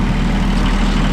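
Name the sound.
tractor engine idling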